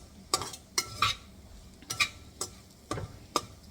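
Gram flour (besan) being dry-roasted and stirred in a pan, heard as a handful of close, sharp clinks and scrapes of the spoon against the pan at an irregular pace, with quiet gaps between.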